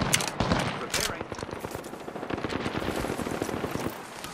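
Rapid automatic gunfire from the video game Apex Legends chatters in quick bursts with sharp shots, moderately loud, over a busy game mix.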